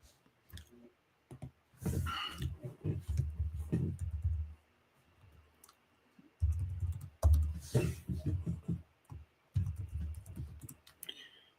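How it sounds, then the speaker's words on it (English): Bursts of computer keyboard typing while naming items during a livestream, fast irregular clicking runs separated by short pauses, close and fairly loud with no talk. "as I'm doing this, I'm typing down the names so I know what they are"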